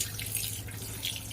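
Water runs steadily from a tap, splashing and trickling continuously as fish are rinsed beneath it, fairly close and without any talking.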